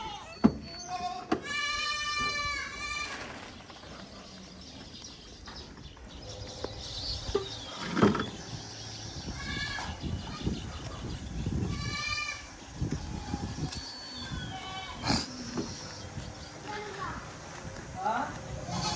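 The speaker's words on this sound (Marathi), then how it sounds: "उत्तमने शेळी पालन केले बंदिस्त." Goats in a stall-fed goat shed in Karnataka bleat repeatedly, some close and loud, others farther off, with shuffling and knocks in the pen while people talk throughout.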